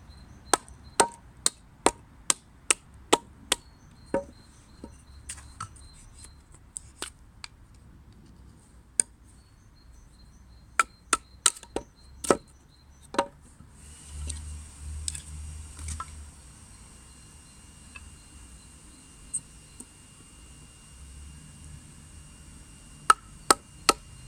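A Solognac Sika knife from Decathlon chops into wooden sticks: crisp, close knocks in quick irregular bursts with quiet gaps between and some scraping rustle in the middle.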